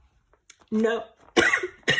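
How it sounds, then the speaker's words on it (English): A dry cough bursts out twice in quick succession, close and fairly loud, with a short voiced sound before it, while someone cleans and sanitizes surfaces at home. "I just always have a cough."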